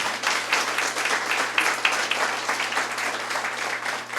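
A congregation claps loudly in praise of the Lord after a priest's talk on exorcism, dense overlapping hand claps with a few sharper individual claps, sustained and fairly close.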